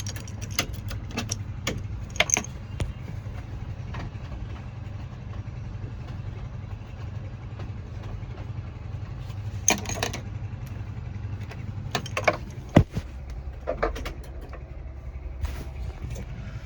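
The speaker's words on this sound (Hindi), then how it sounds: "चाबी लगाते हैं एक बार गाड़ी को।" A 2023 Mahindra Bolero Pickup CNG: keys jingle near the ignition while its engine idles with a low, steady hum throughout, and a few sharper clicks and rattles stand out.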